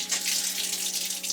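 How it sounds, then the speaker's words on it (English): A tap runs steadily into a sink in a bothy at bedtime while people brush their teeth, a continuous close hiss of flowing water with faint brushing underneath. "Everyone brushing their teeth in the sink."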